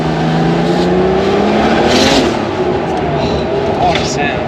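A Porsche 930 Turbo engine revs loudly nearby, its pitch climbing and sweeping up through a throaty roar, with a voice briefly heard over it.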